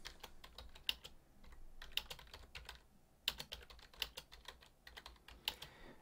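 Quiet, irregular keystrokes on a computer keyboard as text is entered in the code view of a web page editor, with a few sharper clacks standing out and no talking.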